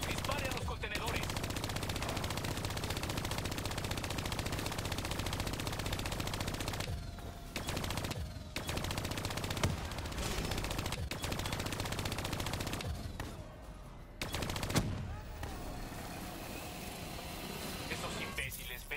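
Sustained automatic gunfire and scattered shots from the Call of Duty Black Ops 2 video game, near and loud across most of the stretch with brief lulls, mixed with game voices and effects.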